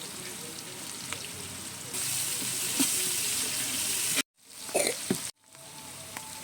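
A kilo of onions sautés in a pan for chicken masala biryani, a steady close-up sizzle and hiss that jumps louder partway through and is broken by two abrupt cuts near the end.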